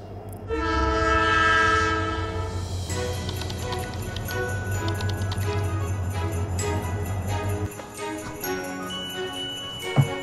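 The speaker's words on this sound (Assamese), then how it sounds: "মোৰ ট্ৰেইনখন আহিলে" A train pulls into Lakhimpur station, its horn blaring loud and sustained at the start before the heavy rumble and clanking of wagons rolling past close by, easing off near the end.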